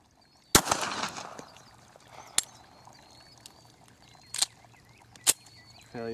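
A Glock 42 pistol fires .380 rounds outdoors, sending out several sharp, separate cracks spaced irregularly with faint rustling and ambient noise between them, the shots loud against a quiet background.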